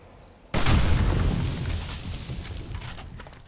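Blocks detonated in the game 7 Days to Die give a single loud, close boom that hits abruptly, then a rumbling, crackling decay that trails away over about three seconds.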